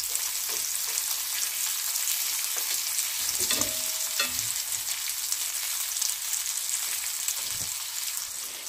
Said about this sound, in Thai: ในขณะที่ทอดหมู